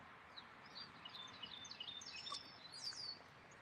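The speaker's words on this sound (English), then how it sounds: "enjoying the morning sounds of birds calling out to each other this morning" Several birds chirp and call back and forth in the morning, faint and somewhat distant, quick high tweets clustering and overlapping over a quiet background.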